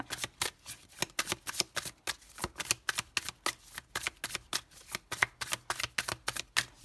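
Tarot cards being shuffled by hand, a fast run of crisp riffling flutters repeating in a steady rhythm, close and clear with no talking.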